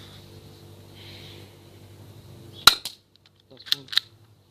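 A 300 mph BB gun fires at a piece of wood: one sharp, loud crack with a short smack, then two quieter snaps a second later, after a stretch of low background murmur.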